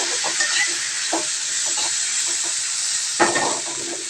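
Ghugni masala with tomato sauce sizzles and fries in a pan while a spoon stirs it, giving a steady close hiss broken by scraping strokes, with one louder stir near the end.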